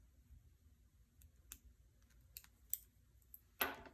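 Scissors snipping into the seam allowance of a sewing-pattern coat pocket, a few quiet, sparse clicks ending in one sharper snip, faint and close with no talking.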